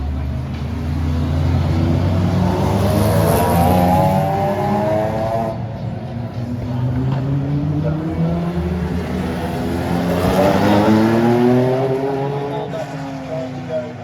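Classic race cars, including a Lotus Elise, roaring past at close range during a street circuit event in Albany, with waves of engine noise rising and falling as cars pass and rev through a corner.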